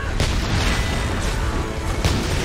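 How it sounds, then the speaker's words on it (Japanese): Two deep, cannon-like booms land about two seconds apart over a busy, noisy Dragon's Dogma: Dark Arisen battle soundscape. "大砲みたいなの何なんだろう。"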